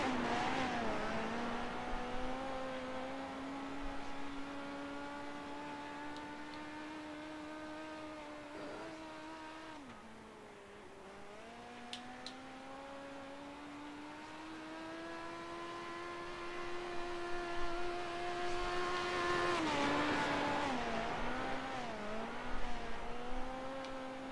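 A dirt midget race car's engine in iRacing drones steadily at high revs for the whole stretch, dipping briefly in pitch as the throttle lifts around the turns and then climbing again, loud and alone with no talk.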